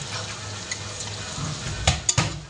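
Onions fry in a pan and give a constant close sizzle. A utensil stirs and scrapes through them, with a couple of sharp clinks against the pan near the end.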